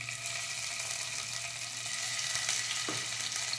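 Cumin and mustard seeds crackling in hot oil in a pan while cooking a cauliflower curry, a steady close sizzle with faint scattered pops, no voices.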